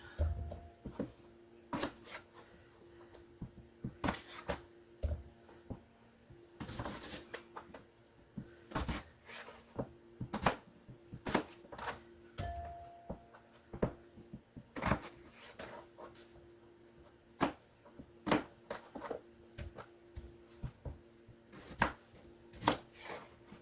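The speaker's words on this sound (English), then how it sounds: "I'm going to just cut them up kind of rough, chopped, and stick them in the head bowl here" Vegetables roughly chopped with a knife for a crockpot steak and veggie meal, a series of sharp, close knocks at an irregular pace with quiet gaps between, and no talk.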